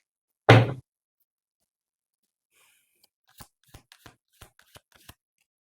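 Tarot cards being handled, with one loud thump at the start, then silence, then a quick series of about seven sharp light clicks and snaps as cards are pulled.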